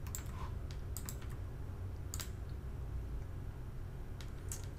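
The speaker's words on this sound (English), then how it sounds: "I get a chance to type in my email address and choose a password." Keys clatter on a computer keyboard as an email address and password are typed, quiet bursts of clicks in short runs with pauses, close and alone over a faint hum.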